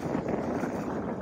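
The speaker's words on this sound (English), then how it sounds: "It was an absolutely beautiful day, but very windy." Steady wind roars across the microphone aboard a catamaran on a coastal cruise off St. Lucia, a dense, unbroken rush with no voices.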